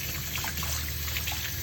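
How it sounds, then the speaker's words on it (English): Running water rinses soap off carp fishing reel parts, a steady close splashing trickle like a tap stream. "I always kind of try to rinse the soap off"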